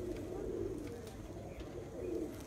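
Pigeons coo steadily from a flock settling at the end of a Punjab one-day pigeon-flying championship in Sialkot, a low continuous murmur close by with no clear talk over it.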